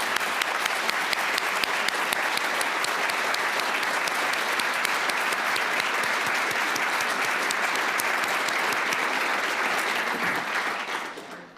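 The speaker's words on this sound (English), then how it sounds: "please give a round of applause in welcoming Ambassador Skip" An audience at a school's State of the School address claps steadily for an arriving ambassador, a dense, sustained wave of applause that holds for about ten seconds before tapering off.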